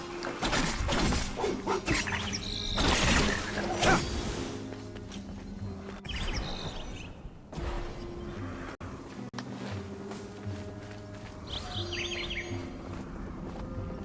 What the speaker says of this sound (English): birds singing again